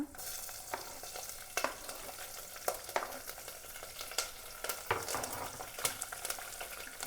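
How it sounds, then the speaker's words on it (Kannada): Vegetables frying in a pan for colour, with steady sizzling broken by frequent spatula stirs and scrapes against the pan, close and continuous. "ಈಗ ಸ್ವಲ್ಪ ಫ್ರೈ ಮಾಡ್ಕೊಳ್ಳೋಣ, ಕಲರ್ ಬರಲಿ"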